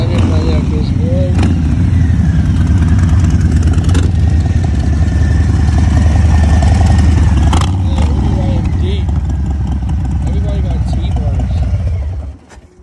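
A motorcycle pulls up and idles nearby in a loud, steady low engine rumble that holds for most of the clip before fading out at the end, with voices talking over it.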